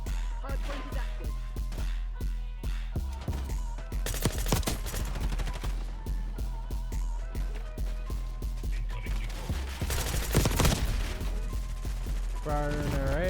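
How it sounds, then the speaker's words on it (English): Rapid rifle gunfire from an AK-style AMAX in the shooter game Black Ops 6 during a Hardpoint match, bursts of shots rattling over steady game audio, with heavier volleys around the middle and end. "Firing it right at me with an AMAX or something."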